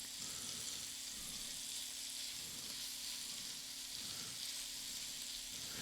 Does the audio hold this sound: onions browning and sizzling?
yes